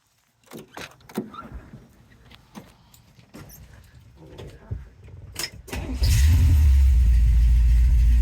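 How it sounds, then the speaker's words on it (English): A 1955 Chevy 210 post gasser with a 350 V8, headers, an X pipe and Flowmaster exhaust. Scattered clicks and handling noises come first, then the starter cranks and the engine fires into a loud, deep, steady idle right up close. "He's got headers leading to an X pipe and out Flowmaster. Sounds really nice."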